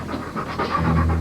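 A dog pants in quick, rhythmic breaths close by, loud and steady for about a second.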